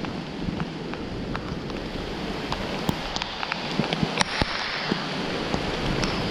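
Steady rain falls on a wooded mountain hiking trail near waterfalls, a dense broadband hiss with scattered sharp drop ticks and light wind, heard up close with no talking.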